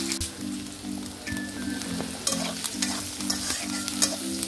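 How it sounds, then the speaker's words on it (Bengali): Onion and garlic sizzling in a pan with a continuous crackling hiss, punctuated by repeated scraping strokes of a spatula stirring, close and without talk. "তারপর আমি পেঁয়াজ আর রসুনটা একটু ভালোভাবে ভেজে নিব যেন পেঁয়াজের কাঁচা গন্ধটা চলে যায়।"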